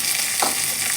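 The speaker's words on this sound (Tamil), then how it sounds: "இதில் எண்ணெய் கடுகுலாம் தாளிச்சாச்சு. இப்போ கொட்டிக்கிறேன்." Hot oil tempered with mustard seeds is poured into a mulai keerai buttermilk kootu, giving a brief, loud, close hissing sizzle with a soft splash, with no talk.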